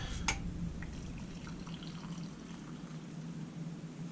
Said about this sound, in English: we pour the coffee